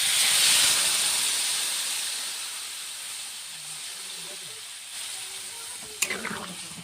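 Water hits hot oil in a pan of frying broccoli and potatoes, bursting into loud hissing steam and sizzle that gradually fades, followed by a sharp clink of a utensil and soft stirring near the end.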